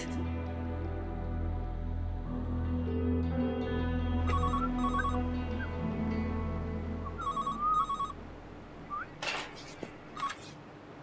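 A telephone rings in short repeated bursts over a low background hum, with ringtone-like tones recurring at intervals and no talk.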